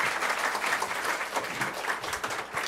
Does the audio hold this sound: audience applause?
yes